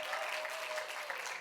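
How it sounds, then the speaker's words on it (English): Faint, steady round of applause from a room of managers and leaders, a soft even patter of many hands continuing throughout. "I want everybody in here to give me a round of applause"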